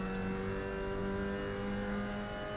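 Mazda MX-5 Cup racers at Brands Hatch give a continuous, loud engine roar with a steady held rev, dense and unbroken for the whole stretch with no voices over it.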